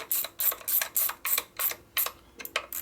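Lower screws being tightened on a rebuilt 1972 Harley FLH 98ci shovelhead stroker motor: quick repeated ratcheting clicks in a steady rhythm, close up and fairly quiet, with no talking.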